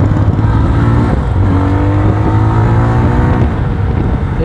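A 2024 Jawa 42 FJ 350 motorcycle accelerates hard, its engine note loud and close, with a droning exhaust tone that climbs in pitch through the gears, with no talking over it.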